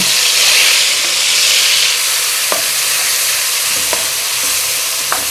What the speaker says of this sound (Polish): na rozgrzanym oleju.